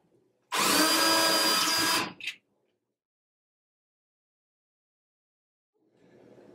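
A power drill boring a 5/16 inch hole into a wall whines loudly for about a second and a half, then cuts off with a short burst, followed by quiet and faint rustling.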